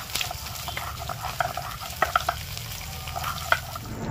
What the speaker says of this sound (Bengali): এই 3টে মাছও আমার কড়া করে ভাজা হয়ে গেছে